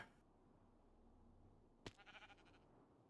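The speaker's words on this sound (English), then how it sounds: "definitely just heard the sheep hit the ground" A Minecraft sheep lands after a fall: after near silence, a sharp impact is followed by a short, faint bleating hurt sound, then another sharp hit at the end.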